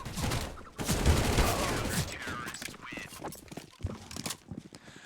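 Rapid gunfire bursts in a Counter-Strike: Global Offensive tournament match between Fnatic Rising and BIG OMEN Academy, dense clattering shots crowding the first few seconds before thinning into scattered cracks, with a caster's voice underneath.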